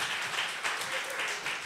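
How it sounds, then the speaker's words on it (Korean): A church congregation at a Sunday service gives a round of applause, a soft, continuous patter of many hands lasting under two seconds, heard from some distance. "다시 한번 큰 박수 부탁드리겠습니다."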